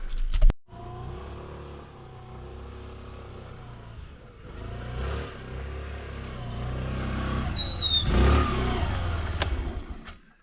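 A scooter used by a small farmer to carry goods around a plantation, starting with a sharp thump, then its engine idling and building into a louder, rising drone as it pulls away.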